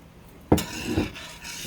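Spiced rum and heavy cream stirred together in a pot: a sharp clink of a utensil against the pot, then a few soft scraping swirls, close and moderately loud.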